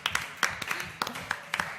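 Sparse clapping from a small live audience, a handful of irregular, fairly quiet claps over a short stretch.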